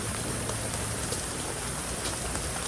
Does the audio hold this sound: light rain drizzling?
yes